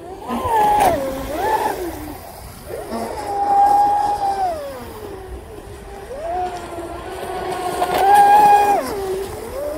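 A small electric motor on a Surpass Rocket 4082 RC boat with a 3-blade prop whines, rising and falling in pitch as it speeds up and eases off, with water splashing faintly underneath.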